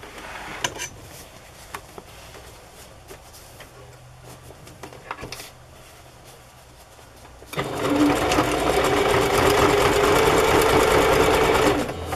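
A sewing machine stitches a fabric journal cover: quiet handling and faint taps for several seconds, then a loud, steady mechanical whir of continuous stitching runs close up to the end.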